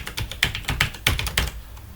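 Rapid clicking of keys on a computer keyboard as an email address is entered into an online form, a close, steady run of keystrokes with no talking.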